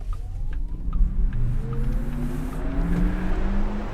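A Porsche Taycan Turbo electric car drives along the Angeles Crest Highway, giving a low road rumble with a faint rising motor whine, steady and fairly quiet from inside the cabin.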